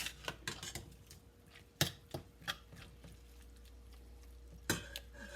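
Ground beef browning in a pan with onion added after the grease was poured off; faint, sparse spatula clicks and scrapes against the pan over a quiet low sizzle, with no talking.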